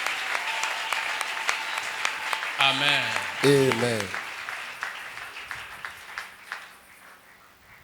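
Congregation clapping at an evangelical church service, a steady patter of hands continuing throughout, with a voice and a sung harmonic phrase rising over it midway.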